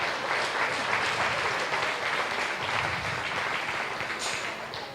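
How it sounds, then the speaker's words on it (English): Crowd applause for youth exhibitors at a junior beef steer show, sustained even clapping for the whole stretch, fairly close and full. "Let's give these kids a round of applause"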